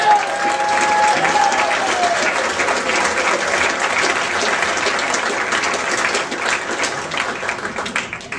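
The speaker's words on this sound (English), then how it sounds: "Give it up for my dear friend, Mr. Jim McCue." An audience applauds for a comedian at a stand-up show. Steady, dense clapping from a large crowd fills the room and stays loud throughout, with a faint voice early on.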